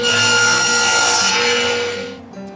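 A piece of bark is trimmed for a rustic bark bird house, giving a loud, continuous rasping cut that is close and steady and fades out after about two seconds.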